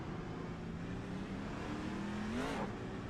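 A race car engine in the iRacing sim hums steadily at moderate volume, then rises in pitch as it accelerates and briefly shifts near the end, with no voices.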